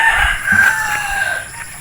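Chicken calls ring out over steady background noise in a vegetable garden, a rooster-like crow and a few clucks across a couple of seconds, moderately close.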